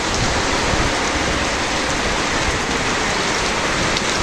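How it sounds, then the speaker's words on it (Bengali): Heavy downpour with wind, a dense, loud, unbroken roar of rain drumming on surfaces, constant and close throughout. "দেখো কত বৃষ্টি"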